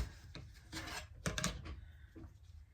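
Sewn fabric blocks trimmed apart with a ruler and rotary cutter, a few close raspy rubbing strokes and small knocks against a cutting surface.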